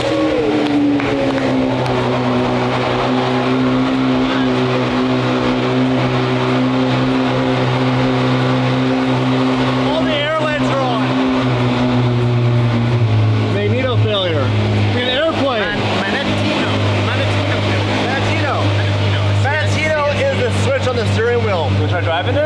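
A car engine, fitted for an F1 gearbox with a stock tune, runs loud and close with a steady idle hum that shifts pitch partway through, under continuous overlapping talk.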